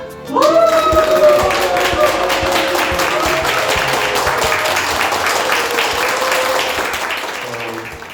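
Audience applause greeting a guest lecturer at a climate and carbon-neutrality talk, a steady, dense clapping that swells in and carries on for several seconds before easing off, with a voice briefly audible early on.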